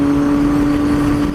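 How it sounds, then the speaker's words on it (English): A McLaren sports car passes close by on a country road, a loud steady engine roar with a bright sustained tone filling the whole short moment. "I think that was a McLaren"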